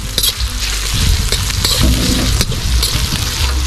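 Ginger and red onion sauté in a hot pan, producing a loud, close, continuous sizzle and crackle with stirring scrapes throughout.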